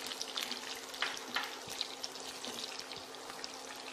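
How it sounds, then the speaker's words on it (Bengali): Capsicum pieces hit a hot pan of frying dry chilli chicken, giving a steady, moderately loud sizzle and crackle that carries on without pause, close up in a kitchen with no talk. "হ্যাঁ, এবারে ক্যাপসিকামটা দিয়ে দিচ্ছি।"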